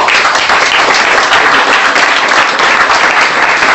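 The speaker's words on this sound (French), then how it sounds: "Applaudissez pour vous-même maintenant." A church congregation claps for itself in one dense, steady burst of applause, loud and continuous with no voices standing out.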